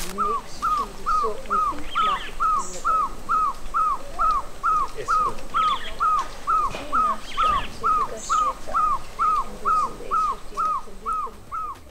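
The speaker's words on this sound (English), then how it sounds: "Let's go see the barred owl. I can hear it." A female barred owl calls at Tsendze in Kruger National Park, South Africa, repeating a steady, rhythmic series of clear hooting notes for the whole stretch, with faint ambient bird and bush sounds behind.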